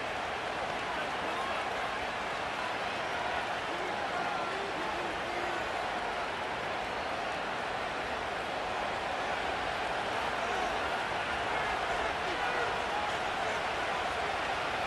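Stadium crowd in the Madden NFL 25 football game, a steady, dense roar across the whole stretch with no clear peaks, heard alone without commentary.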